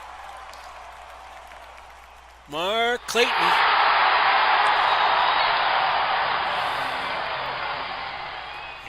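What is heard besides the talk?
crowd cheering after a touchdown in a football video game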